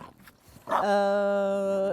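A bulldog at a retirement home for bulldogs lets out one sustained, nasal, high whimper close by, after some faint shuffling.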